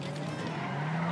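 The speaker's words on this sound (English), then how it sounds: "That was not a good drift there." A car drifts in GTA 5 with a real-life mod, its tires squealing in a continuous, loud high-pitched whine over engine roar, with a voice underneath.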